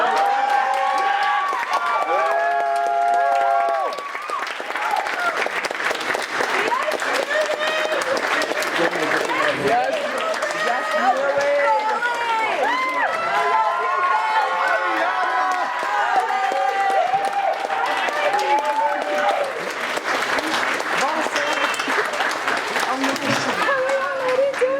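An audience at a creative writing program's mid-year show claps and cheers with whoops throughout, loud and sustained, while voices talk and shout over the noise.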